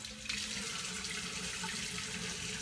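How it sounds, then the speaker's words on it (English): A tap runs steadily into a sink while rinsing after a shave, giving a brief, even hiss of flowing water at low volume. "Rinse it off a little."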